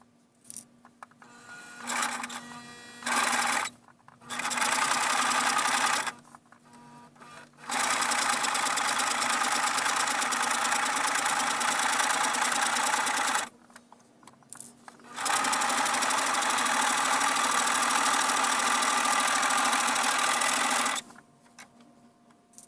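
A sewing machine runs in several bursts, stitching in reverse to lock the thread, each run a loud, steady, rapid whir separated by short pauses.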